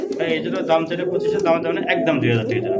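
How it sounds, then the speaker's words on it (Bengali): Black short-face pigeons coo steadily under a busy background of overlapping voices and pigeon-market chatter, the soft throaty calls repeating close by. "খুবই চমৎকার একটা ব্ল্যাক কালার শর্ট পেস কবুতর"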